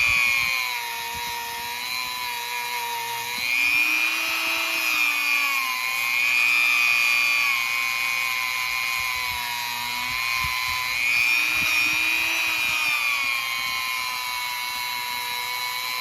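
A power polisher buffs a watch case with coarse compound, a steady high-pitched motor whine that rises and dips in pitch as pressure shifts against the metal, continuous and close with no talking.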